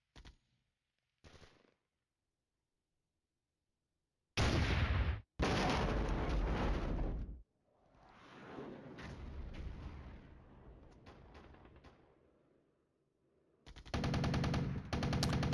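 Field artillery fires in the Flashpoint Campaigns: Red Storm wargame, with several loud, sharp firing bursts separated by silence and a softer rumbling stretch between them.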